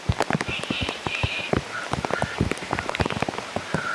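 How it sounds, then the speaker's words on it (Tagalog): Heavy rain falls densely around a group of people at night, with sharp drops pattering and splashing on nearby surfaces, and faint voices and tones sounding in the background. "Ang lakas ng ulan."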